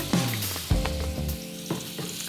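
Butter and olive oil sizzling in a cast iron skillet, with loud close bursts of crackling as things hit the pan and scraping movements, settling into a steady frying hiss between the clattering contacts.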